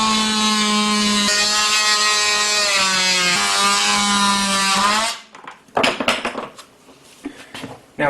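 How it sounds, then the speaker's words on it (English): Oscillating multi-tool notching a Z-counterform for a pour-in-place countertop, giving a loud buzzing whine with a steady pitch for about five seconds, then stopping, followed by a few knocks and scrapes of handling. "I will probably end up notching that with the oscillator tool"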